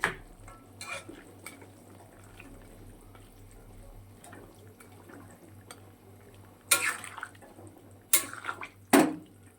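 Fried fish and pointed gourd pieces are tipped into a thin fish curry in a pan: a quiet simmer underneath, then a few sharp clinks and scrapes of a utensil against the pan.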